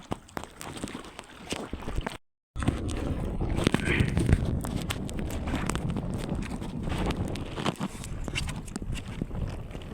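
Strong gusts of wind roar across the microphone in a continuous rumble at the shore, briefly cutting out before resuming, with faint voices underneath.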